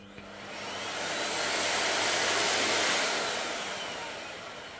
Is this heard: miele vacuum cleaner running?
yes